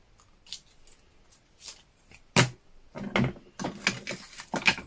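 Scissors snipping paper around dried autumn leaves for an art journal page, a series of close, crisp irregular cuts that grow denser toward the end, heard alone.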